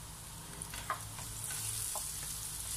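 Onion and garlic sauté in a pan with a steady, close sizzle and a few soft stirring scrapes, heard alone with no voices.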